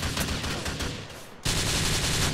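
Dense rapid gunfire fills a team deathmatch game, loud and continuous, with a brief dip before another full-volume burst resumes.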